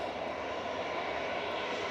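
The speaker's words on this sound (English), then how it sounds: "Ryanair you can hear in the background departing is GRUKD for Ryanair UK with flight 191 to Belfast" A Ryanair jet departing Manchester Airport for Belfast gives a steady background engine roar, brief and unbroken, with no voices.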